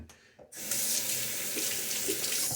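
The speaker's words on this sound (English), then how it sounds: "the wonder of the jigger is I can add quite a bit of water at once" A tap turns on and runs in a steady, loud rush of water while a horsehair shaving brush is being lathered, the flow starting abruptly after a brief quieter moment with no speech.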